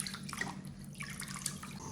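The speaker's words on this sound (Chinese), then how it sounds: "然后给它放入盆中，加入清水，然后用刀刮一刮，" Pork belly scraped with a knife and washed in a basin of water, giving a steady wet sloshing and dripping with small scraping splashes throughout, close and moderately quiet.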